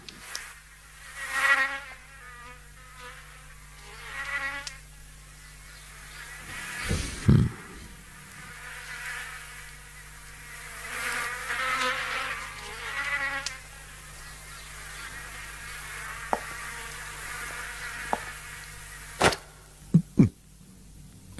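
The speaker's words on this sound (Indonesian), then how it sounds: "Nyamuk, Pak." Close and thin, a mosquito whines in rising and falling swells that come and go, with a few sharp knocks and thuds breaking in.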